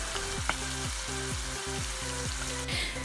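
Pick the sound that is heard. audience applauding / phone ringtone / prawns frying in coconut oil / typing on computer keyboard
prawns frying in coconut oil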